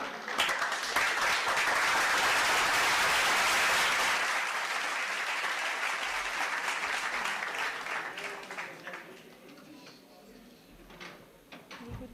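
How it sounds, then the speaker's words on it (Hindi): Loud applause from an audience welcoming a guest at a facilitation ceremony for a news team, a dense burst of clapping that swells at the start, holds, then thins out to scattered claps by the end. "जोरदार तालियों से स्वागत करें"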